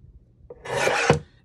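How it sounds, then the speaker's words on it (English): Paper trimmed for a journal tag, one short rasping cut lasting about half a second, close and fairly loud in an otherwise quiet room. "Let's trim off just a slight tad on this one."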